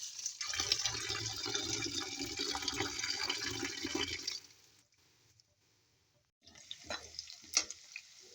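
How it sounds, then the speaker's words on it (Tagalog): Cooked leafy greens are rinsed under cold tap water, a close, steady splashing gush for about four seconds, then a brief quiet, then renewed splashing and dripping water with small handling knocks. "Now we have to wash this one in cold water so it will become cold"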